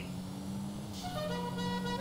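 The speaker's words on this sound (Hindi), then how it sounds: "अबे ये कौन सा हॉर्न लगाया हुआ है" A car horn in the video game GTA 5 sounds over a steady engine drone, the tone shifting and rising as it honks, fairly close.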